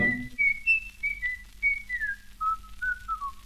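Melodic whistling from a 1934 recording, a bright, clear tune of sliding and held notes over a faint, steady band backing, with no voices.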